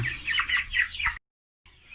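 Chickens cluck and squawk in a short burst, close by, then a brief silence before faint farmyard noise returns.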